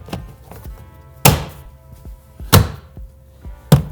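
A plastic interior trim panel in a car is banged into place by hand, giving three loud, hollow thumps about a second apart, with softer taps and knocks between them.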